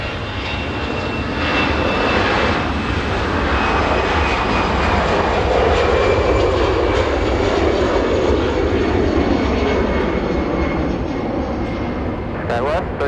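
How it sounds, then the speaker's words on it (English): An Airbus airliner, American flight to Portland, roars past near LAX, its jet engine noise swelling loud and broad in the middle and easing off, with radio chatter and voices talking over it. "A little Airbus getting a move on."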